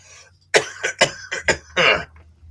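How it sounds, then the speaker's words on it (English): A fit of harsh coughing, five or six rough bursts in quick succession, loud and close, ending in a longer hacking cough. "As I'm coughing to death for a quick minute."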